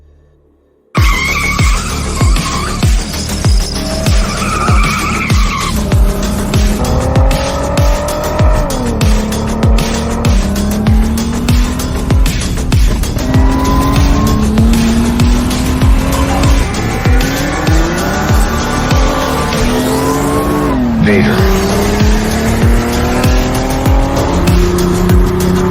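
Mercedes C32 AMG with its supercharged compressor engine, racing against a BMW M3 E46, roaring loudly and continuously with rising and falling revs and repeated tire squeals and skids, no talk.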